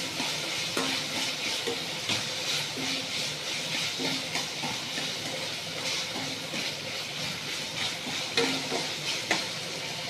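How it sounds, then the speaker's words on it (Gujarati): Chopped tomato and onion fry in a pan while being stirred, giving a steady sizzle with repeated soft scraping strokes throughout, close and alone. "હવે થોડી વાર ટામેટું ગળે ત્યાં સુધી આપણે હલાવીશું."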